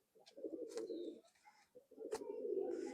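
A Chot Madi pigeon from Khulna coos close by in two soft, rolling phrases separated by a short pause, with faint chirps and a quiet background.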